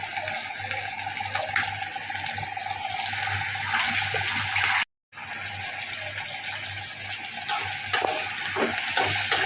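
Green chili and spice paste sizzling steadily in a wok for spinach cooking, a continuous close frying hiss with occasional stirring scrapes and a brief gap midway.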